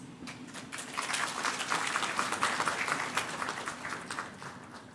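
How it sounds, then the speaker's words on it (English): Audience applause welcoming the President of the Maldives at a formal address, steady and dense clapping from a large crowd throughout, fairly close and sustained without pause. "let's once again extend our warmest applause to welcome His Excellency President Dr. Mohamed Moise to address us"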